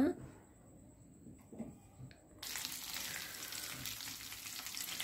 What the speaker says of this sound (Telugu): ఇందులో నేను ఎండుమిర్చి, వెల్లుల్లిపాయలు, ఇంగువ, పసుపు, కరివేపాకు వేసాను. ఇది కొంచెం డీప్ ఫ్రై అవనివ్వాలి.